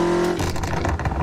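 Car engine in a racing video game, a steady droning note that shifts pitch partway through and stays close and loud for a brief moment.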